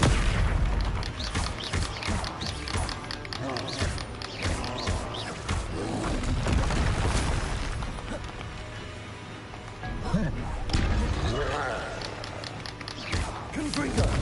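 Confringo fire spell explosions in Hogwarts Legacy, repeated fiery booms and blasts mixed with combat noise and creature roars, with a voice speaking over the action.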